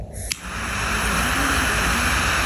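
Fire breather lighter opening with a sharp click, then a strong, steady hissing blast of flame that continues loud and even to the end.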